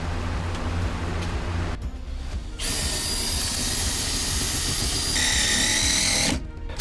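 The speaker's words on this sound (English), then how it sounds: "What happens after you drill the hole in the watertight compartment?" A power drill whines loudly and steadily as it bores through hard material inside a sailboat's anchor locker, pausing briefly and changing pitch before stopping.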